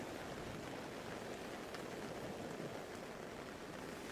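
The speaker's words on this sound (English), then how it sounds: "The rain and the ocean hold you in their embrace" Steady rain mixed with ocean surf, a dense, even wash of noise with no distinct drops or breaks, constant and moderately faint throughout, no voices.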